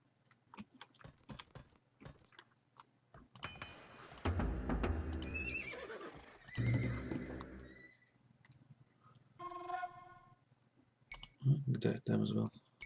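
Horse archers in Age of Empires II give short neighs and whinnies amid clicking game effects and clip-clop hooves, in intermittent bursts with quieter gaps, with some speech in between.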